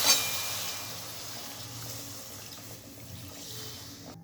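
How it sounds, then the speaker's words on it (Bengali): Warm water pours into a pan of butter mushroom masala, a soft splashing gush with light sizzle that starts strongest and then settles into a steady low wash. "এরপর আমি হালকা গরম জল দিয়ে দিচ্ছি।"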